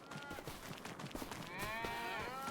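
Cow lowing in a realistic farming video game, a drawn-out moo rising in pitch at the end over a soft, busy game background, fairly faint and with no talk over it.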